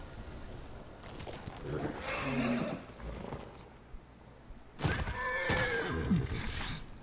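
A horse in the video game Ghost of Tsushima gives two loud, close whinnies with a quieter stretch between them, and some faint hoof and movement sounds can be heard underneath.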